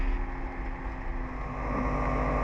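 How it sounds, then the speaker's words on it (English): A Quad City Challenger II ultralight's engine idles roughly while warming up on a cold winter day, a continuous low droning hum with a faint uneven waver, close and alone, rising slightly toward the end. "I'm just going to let the engine warm up a while longer, see if that helps."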